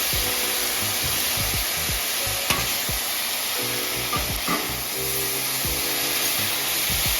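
Mongolian sauce of ginger and soy sizzling on a Blackstone griddle, a constant bright hiss with scattered crackles and the occasional scrape of a utensil, close and steady throughout.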